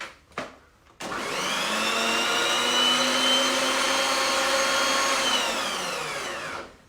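A food processor blitzes carrot cake bliss ball mixture: after a couple of short knocks, the motor spins up into a loud, steady whirring drone for about six seconds, then winds down.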